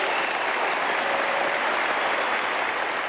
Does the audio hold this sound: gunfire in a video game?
no